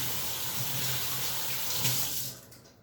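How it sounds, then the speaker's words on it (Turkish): Hands being washed under a steady stream of running tap water from a kitchen faucet, a close, even splashing rush that cuts off near the end, with no talking. "Şimdi ellerimizi yıkıyorum."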